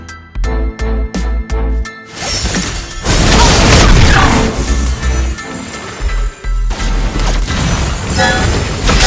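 A turret is destroyed in the mobile MOBA game Mobile Legends: a few sharp rhythmic thumps, then a loud crashing, shattering burst with a heavy boom that stays dense and rumbling for several seconds under busy game sound.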